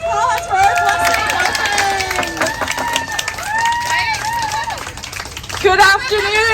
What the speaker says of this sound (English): Another round of applause for our blessing.